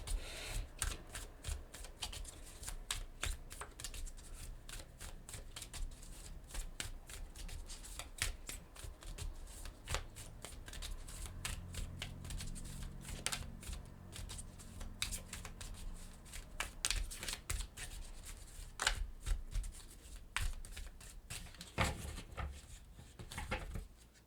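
Oracle cards shuffled by hand in a steady run of quick, dry riffles and flicks that goes on and on, close but fairly quiet, with no voice over it.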